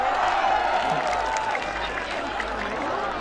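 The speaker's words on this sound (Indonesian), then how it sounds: "tepuk tangannya" Crowd at an outdoor bikers' entertainment event applauding and cheering, a steady wash of clapping and voices at moderate loudness.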